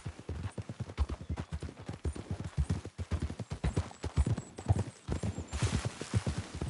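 Horse hooves in Red Dead Redemption 2 beat out a rapid, rhythmic galloping clip-clop close up, continuous and loud throughout.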